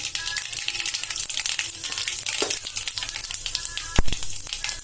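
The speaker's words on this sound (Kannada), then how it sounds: "ಎಣ್ಣೆ ಕಾದದ ಈಗ ಇದಕ್ಕೇನದ ಸಾಸಿವೆ ಹಾಕೋಣ ಜೀರಿಗೆ ಹಾಕೊಂಡಿರ್ತೀನಿ" Mustard seeds and cumin sizzle and crackle in hot oil, a busy close frying hiss dotted with rapid pops and spits, with one sharp metallic clink toward the end.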